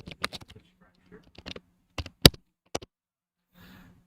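Scattered clicks and taps from a computer keyboard, sounding as sparse, irregular keystrokes in short bursts with gaps between them, close and fairly quiet, ending with a soft rustle.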